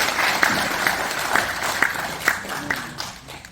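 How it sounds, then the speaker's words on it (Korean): An audience claps after an academic presentation in a lecture hall, a steady patter of applause that is fairly loud at first and slowly fades. "발표를 마치신 안동교 선생님께 다시 한번 큰 박수 부탁드리겠습니다"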